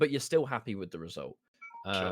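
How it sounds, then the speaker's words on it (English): A mobile phone gives a brief low-battery warning: a quick pair of descending electronic beeps in a short gap between stretches of conversation. "That was my phone running out of battery."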